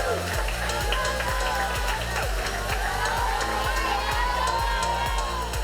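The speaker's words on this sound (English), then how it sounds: "All right, let me get a cheer from you." A school pep-rally crowd at Brophy cheers and shouts loudly and continuously over a thumping music beat, a dense, energetic roar of many voices.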